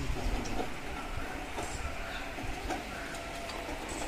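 The Barauni–Gwalior express at Burhwal station rolls in with a faint, continuous rumble and clatter, and a voice sounds over the platform in the background.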